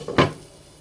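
A lid drops onto a cooking pan with one short, close knock and a brief clatter, then a quiet room.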